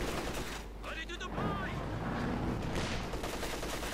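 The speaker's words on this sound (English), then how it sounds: "Taking a lot of fire from the Germans" Gunfire rattles in the World War II strategy game Company of Heroes 2, with dense battle noise and scattered shots running under a caster's continuous commentary.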